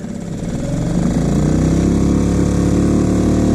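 An outboard motor on a small fishing boat at Lake Almanor, Plumas County, California, catches after a pull and quickly swells into a loud, steady buzzing run close by, holding at full volume.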